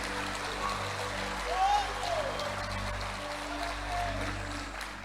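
Church congregation applauding during a revival sermon, a steady broad wash of clapping under a continuous low hum, with a faint voice in the background.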